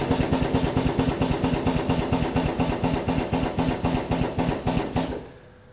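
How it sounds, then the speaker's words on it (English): An ATEX stainless steel power clamp drum tipper runs its clamping arms closed around a plastic drum, giving a loud, steady machine hum with rapid regular pulsing for about five seconds before cutting off abruptly. "We then press our clamp button to clamp the arms around the drum"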